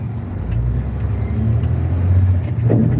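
A loaded semi truck's engine straining as it pulls uphill, with a continuous low droning rumble that builds slightly over a few seconds alongside road noise, heard from inside the cab.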